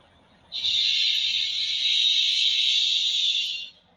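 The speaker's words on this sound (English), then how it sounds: "The noise you hear is air escaping the drop axle suspension." A steady, loud hiss of air escaping a truck's drop axle suspension runs for about three seconds, then cuts off, heard alone against a quiet background.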